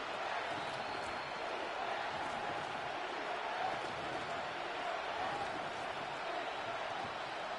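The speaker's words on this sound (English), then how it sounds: "Listen to this crowd now." A stadium crowd in the Madden 26 American football video game roars in a steady, dense wash of noise during a two-point conversion, loud and continuous with no breaks.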